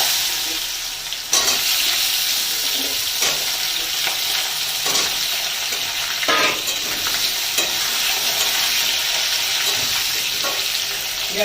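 Green banana pieces fry in hot oil with panch phoron and bay leaf on a gas stove turned low, a steady dense sizzle with spatula scrapes and stirs breaking through it after a louder onset.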